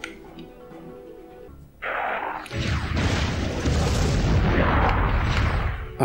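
Enemy gunfire and heavy booming blasts from the Turok 3 shooter game erupt after a quiet start, building into a loud, sustained rumble of shots and explosions.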